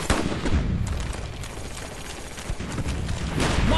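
Dense, rumbling barrage of artillery fire for effect in a video game, with booms and crackling blasts overlapping continuously at close range.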